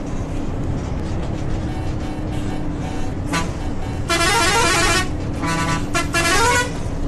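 Bus horn in Bus Simulator Indonesia heard from outside, sounding in several loud bright blasts with short gaps over a steady engine rumble, after a brief earlier toot.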